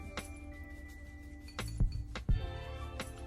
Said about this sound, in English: And then you just kind of give that a little quick stir.